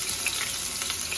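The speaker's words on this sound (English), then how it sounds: "I will throw in the mushroom," Mushrooms frying in a pan for a Taiwanese luffa stir-fry, giving a steady, close hiss of sizzling with faint scraping from stirring, heard alone for a moment without any voices.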